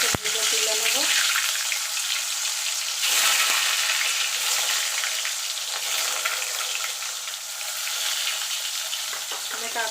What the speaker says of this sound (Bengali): এবার আমি কাঁচকলাগুলোকে ভেজে তুলে নেব।